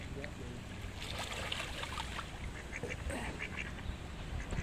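Ducks quack softly at a distance while being fed by the water in Australia, over steady trickling water and background chatter.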